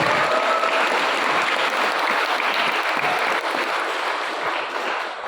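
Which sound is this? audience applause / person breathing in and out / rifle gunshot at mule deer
audience applause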